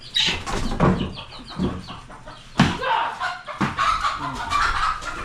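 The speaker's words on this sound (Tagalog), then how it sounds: "May mga manok dito sa amin mga idol" Chickens cluck and call nearby amid a busy outdoor scene, with people talking intermittently over the birds.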